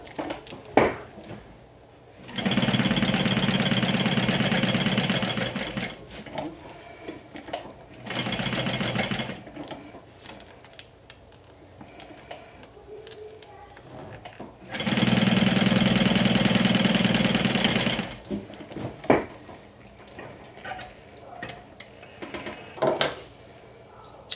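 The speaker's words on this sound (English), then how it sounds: "I'm gonna go ahead and top stitch it." A sewing machine top-stitches fabric in two long steady runs of rapid mechanical chatter, close by, with quiet handling noises and pauses between them.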